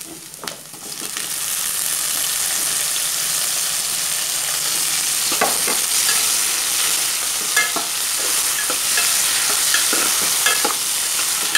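Tomatoes sizzle steadily in a hot pan while a utensil stirs and scrapes at irregular moments, close and continuous with no talking.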